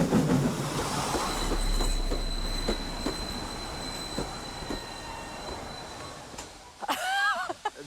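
A Victorian-era steam train engine rumbles steadily close by, wheels clattering and squealing, with a sharp metallic screech near the end.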